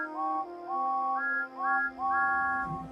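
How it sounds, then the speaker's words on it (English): Steam engine whistles from the Thomas and Friends railway shout out loudly, several overlapping tones sounding in repeated bursts, some long and some short, layered over a steady held note. "and sounded their whistles as loudly as they could"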